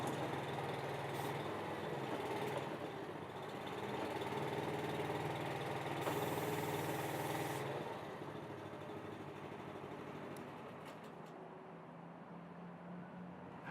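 Engine of an Athena 850 tracked machine running steadily up close, a continuous loud drone that holds throughout with no talking.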